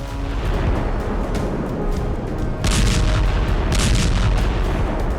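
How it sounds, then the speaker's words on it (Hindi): Explosions from a drone bomb striking a building in a war zone: loud, dense rumbling blasts with a sharper, heavier burst midway and sustained crackling roar throughout. "ड्रोन ने बम गिराए और फिर तेज धमाके से इमारत में आग लग गई।"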